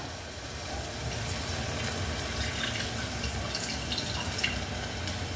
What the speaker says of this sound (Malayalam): കുറച്ച് പുളി എടുത്ത് വെച്ചിട്ടുണ്ട് വെള്ളത്തിലിട്ട് കുതിർത്തി വെച്ചിട്ടുണ്ട് അതിനെ ഒഴിച്ചു കൊടുക്കാം